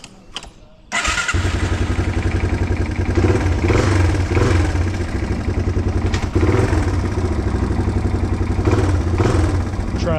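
A 1987 Yamaha TW200 motorcycle that has sat unused cranks and fires after a second of quiet, then runs loud and steady at close range, its rough idle rising and dipping slightly as it is put in gear.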